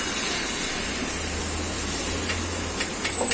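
An omelette fries on a buttered tawa griddle, giving a steady, close hiss and sizzle that runs throughout with a few sharper crackles near the end.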